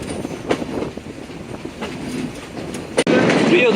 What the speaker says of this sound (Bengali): আমাদের ট্রেনটি কোটচাঁদপুর রেলওয়ে স্টেশন ত্যাগ করে রওনা হয় পরবর্তী যাত্রা বিরতি রেলওয়ে স্টেশনের উদ্দেশ্যে